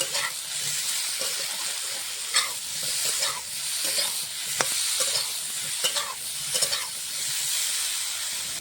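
Vegetables with salt and turmeric frying in a pan, a steady hissing sizzle broken by intermittent scrapes and knocks of a stirring spoon, close and continuous.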